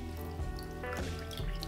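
Lemon squeezed by hand into a Bloody Mary, juice trickling and dripping into the glass, faint and close in a short burst.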